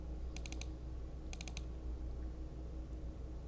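Two short bursts of quick keystrokes on a computer keyboard, each a tight cluster of about four clicks, sound close and clear over a faint steady room hum.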